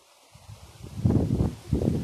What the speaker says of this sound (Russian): Штормовое предупреждение, девочки, у нас сказали. Такое ветруганище.